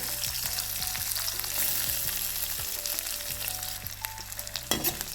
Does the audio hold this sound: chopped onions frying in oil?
yes